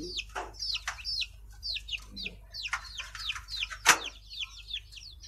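A young chick with a broken neck, placed in a cage, gives repeated high chirps and peeps, clear and close, with several calls overlapping against a low background hum.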